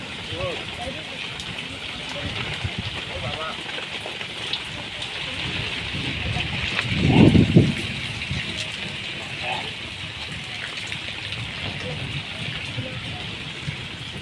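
Heavy monsoon rain pours down steadily in Odisha, a dense, constant hiss close by that floods into a house, with a brief louder rumble partway through.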